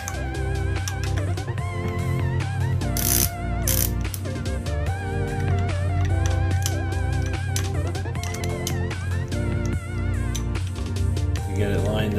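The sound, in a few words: ratchet tightening oil pan bolts on engine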